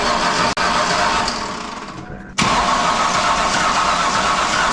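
A Chevy Silverado with a budget replacement engine cranks and fires up; a steady broadband engine roar dips briefly, then surges back to a loud, continuous run, heard close with no talking.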